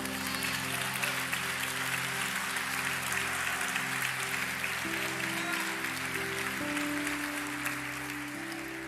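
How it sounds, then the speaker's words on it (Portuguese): Church congregation applauds in a sustained wash of clapping, with a held musical chord or keyboard drone sounding beneath it throughout. "Pode aplaudir Jesus."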